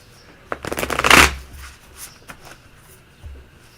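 Tarot cards are shuffled for a one-card pull, heard as a quick close riffle of flicking cards building to a dense burst, then easing into a few lighter taps and slides.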